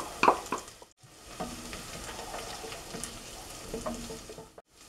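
Chicken meat is tossed into a pan of frying onion and carrot, a few sharp clatters and stirring scrapes over a continuous close sizzle.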